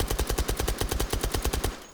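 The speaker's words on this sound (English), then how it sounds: "We already got the suppressor on there, and fire it off." A suppressed UMP45 submachine gun fires in a VR video game, a rapid burst of about fifteen evenly spaced, muffled shots lasting under two seconds, close and fairly loud, then stopping.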